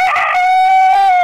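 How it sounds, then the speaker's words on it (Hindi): A rooster crows once in a long, loud, drawn-out call that fills the moment alone, used as an animal-sound recognition example in a children's lesson. "ये मुर्गी की आवाज है।"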